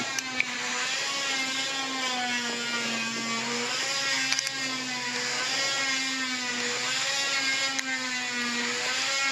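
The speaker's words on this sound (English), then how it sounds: "So that little wheel in there cuts, and so you tighten it up a little bit, spin it around." Pipe cutter wheel spinning around copper pipe, a steady whirring, rasping drone with a slowly wavering pitch that continues close and unbroken throughout.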